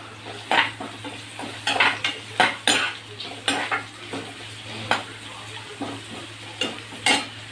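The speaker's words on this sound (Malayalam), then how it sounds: "ഇനിയിപ്പം നമുക്ക് ഈ ചെറിയ ഉള്ളി ഇട്ട് കൊടുക്കാവേ" Small shallots go into a hot pan with fennel seeds and cloves, sizzling softly under repeated sharp clinks and scrapes of a metal spoon stirring against the pan, close and clear with no voices.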